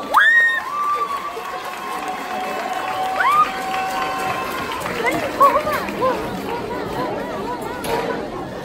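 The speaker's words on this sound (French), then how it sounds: "On peut les applaudir bien fort également" Audience at a dance competition applauding and cheering for a 12–15 age-group dance troupe, a steady crowd wash with scattered shouts, under an announcer's voice and background music.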